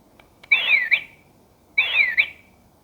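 Two identical electronic whistle blasts from a loudspeaker, each about half a second with a warbling pitch, separated by a short pause.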